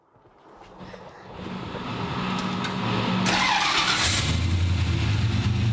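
A car with a small LS V8 engine revs up and spins a tyre, building from a low rumble into a sustained loud roar with a rising whine and tyre noise near the end.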